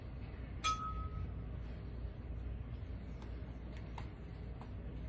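A small 1940s drinking glass being handled gives a single sharp clink near the start, then a few faint taps against a quiet room background.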